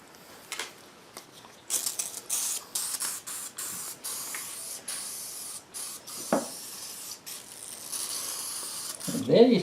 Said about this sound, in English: And then he started spraying lemon pledge on it.